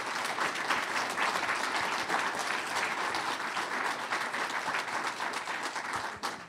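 An audience at an evening event on sustainable water policy for California and Yolo County breaks into steady, sustained applause, dense clapping filling the whole stretch at an even level before tapering slightly at the end.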